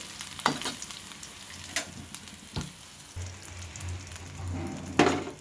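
Onion, garlic and ginger frying in hot oil in a pan: a continuous close sizzle broken by several sharp stirring scrapes and crackles, with no voices.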